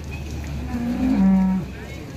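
A Limousin cow lets out a single loud, drawn-out moo close by at a cattle sale, rising then holding steady before fading, over a murmur of background noise.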